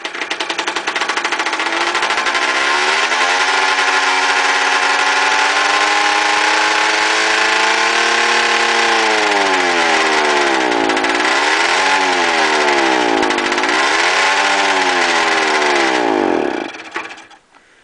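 A 1970 Suzuki TS250 motorcycle engine runs steadily for about sixteen seconds, its pitch rising and dipping as the throttle is blipped, then it stalls and cuts out abruptly.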